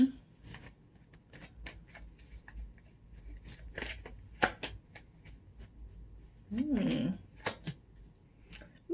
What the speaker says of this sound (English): Let me pull some tarot cards to get some more specifics for you